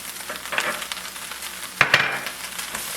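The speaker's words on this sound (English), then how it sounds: "And I'm going to add the shallots." Shallots going into Brussels sprouts frying in hot oil: a loud, continuous sizzle with scraping stir strokes and a sharp burst of crackling partway through.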